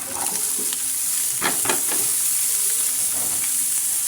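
Long beans and potatoes sizzle and hiss in a hot pan, with a few quick scraping stirs rising above the constant frying noise, close up and with no talk.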